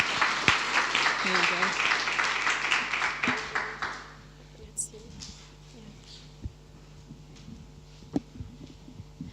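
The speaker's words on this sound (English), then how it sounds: "Encouraging applause." An audience at a health tech demo night gives encouraging applause, a few seconds of brisk clapping that dies away, followed by a quiet room with a low hum and occasional faint knocks.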